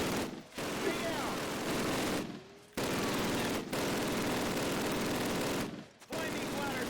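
Machine guns firing in a Call of Duty war game, heard as dense, continuous bursts of rapid gunfire broken by a few brief pauses.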